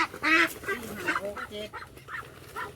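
Ducks at a duck sale let out a run of loud, nasal quacks and honks, close and repeated in quick succession, with faint voices in the background.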